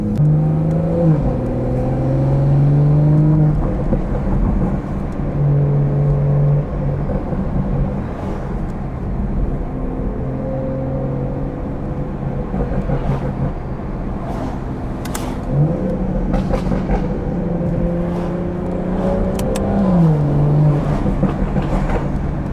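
A Stage 2 tuned BMW 440i engine revs and accelerates repeatedly on backroads, pitch climbing and dropping through gear changes, with sharp exhaust pops and crackles in between.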